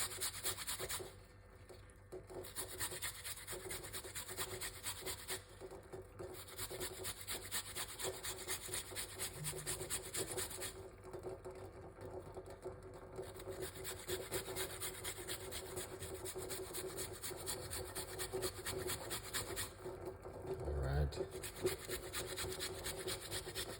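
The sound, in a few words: grating a piece of ginger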